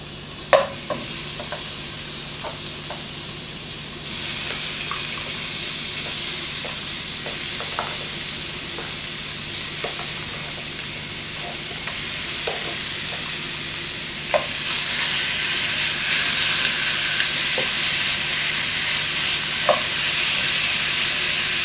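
Pork spare ribs sizzle steadily in a hot pan, a continuous frying hiss with scattered small pops that swells louder partway through, close and without talk.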